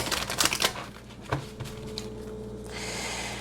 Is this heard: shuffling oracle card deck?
yes